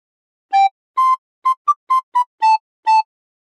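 A recorder plays a phrase of We Wish You A Merry Christmas as eight clear, separate notes. The notes are steady and close and rise and fall slightly in pitch, with short gaps between them and no voice.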